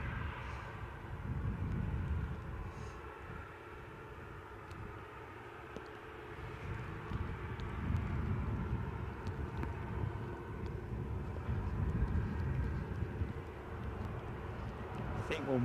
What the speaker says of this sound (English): Another KLM heavy overhead, A320 though this time.